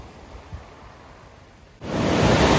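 Surf washing onto the shore along the Skyline Trail at Cape Breton, a low steady wash that swells abruptly into a loud, continuous roar of breaking waves near the end.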